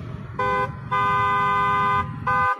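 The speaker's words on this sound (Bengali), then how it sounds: "পথে লোকও নেই গাড়িও নেই, তবুও তো হর্ন বাজছে কেন?" A vehicle horn honks three times in quick succession on an empty road, the middle blast longest, loud and close over a low engine rumble, in a dramatized horror story.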